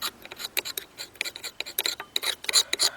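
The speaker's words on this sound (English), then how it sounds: "I'm scraping off all the solid gunk out of the fuel bowl." Solid gunk is scraped out of the fuel bowl of an old self-propelled lawn mower's carburetor, giving a string of short, close, raspy scrapes in an uneven rhythm with no talking.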